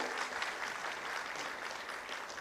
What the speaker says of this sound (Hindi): तालियां आपकी तरफ से जोरदार हो।